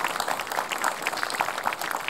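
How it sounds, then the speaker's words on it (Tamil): Audience applause for a child on a Tamil kids' fun show, a steady wash of many hands clapping at moderate volume throughout, with no speech over it. "குழந்தைக்கு ஒரு கைத்தட்டல் கொடுக்கலாங்க"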